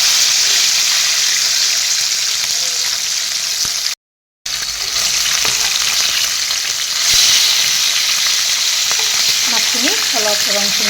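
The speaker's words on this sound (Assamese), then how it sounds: "মাছখিনি অলপ ফ্ৰাই হ'বলৈ দিম।" Fish pieces fry in oil in a kadai for a fish curry, giving a loud, continuous sizzle with crackling. There is a brief silent gap, then the frying resumes with occasional clinks of stirring.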